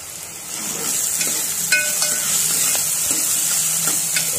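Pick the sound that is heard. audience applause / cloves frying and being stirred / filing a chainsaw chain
cloves frying and being stirred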